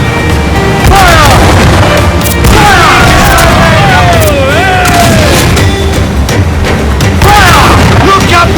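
Ship cannons firing during a naval battle in Assassin's Creed Black Flag, heavy booms and crashes rolling over a constant loud roar of battle, with shouted voices and sweeping whistling effects throughout.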